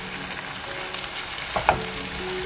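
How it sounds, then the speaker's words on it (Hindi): Nargisi kofta, Mughlai-style meatballs, frying in a pan with a constant close sizzle and bubbling, with a brief clink or handling noise near the end and no talking. "जब तक हम इसको अच्छी तरह फ्राई कर लेंगे कोफ्ते को।"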